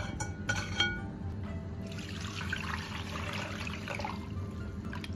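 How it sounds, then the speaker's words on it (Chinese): Running tap water pours steadily over pork ribs being rinsed in a kitchen, a quiet continuous splashing stream that begins after a few light clinks. "咱用长流水再洗一遍"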